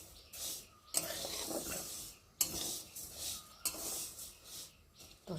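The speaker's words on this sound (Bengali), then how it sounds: "এই যে মুগ ডালটাকে একটু ভালো করে ভেজে নেব" Moong dal is roasted in a pan, heard as quiet, close scraping and rustling stirs of the grains coming in distinct bursts separated by short pauses, with a faint sizzle underneath.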